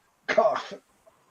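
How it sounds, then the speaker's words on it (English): A single short cough, close and fairly loud, standing alone against quiet during a tabletop card game of Commander. "Cough."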